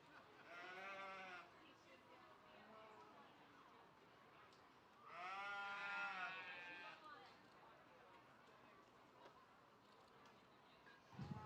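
Sheep bleat loudly twice in a livestock show ring, each call long and wavering, with a quieter bleat between them and steady crowd murmur underneath.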